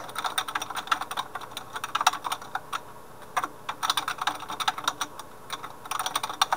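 Rapid, uneven typing on a computer keyboard while writing quest text for a Minecraft Custom NPC mod, close and fairly quiet, with soft key clicks in bursts and short pauses, no talking.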